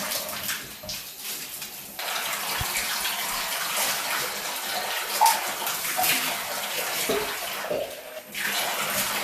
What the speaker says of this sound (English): So now after that, we're just going to wash this off.